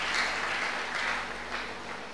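A church congregation applauding in a steady, sustained wash of clapping, loud and fairly close, with no voices clearly standing out.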